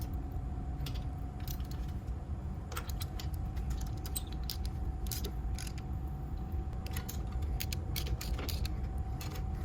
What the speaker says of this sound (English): start torquing these down with a 1/2 inch socket